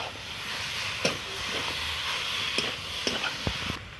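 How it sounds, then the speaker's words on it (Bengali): Low sizzling and hissing from chicken skin frying in a pan, with a few sharp pops and stirring clicks scattered throughout. "আমি মুরগির স্কিনগুলো দিয়ে দিলাম, ভালো করে কষে নেবো।"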